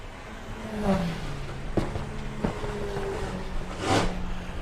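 A Scirocco drag racing car accelerates down the strip at a Volkswagen drag racing qualifying round, a steady engine drone with shifting pitch and brief sharp bursts, moderately distant and continuous.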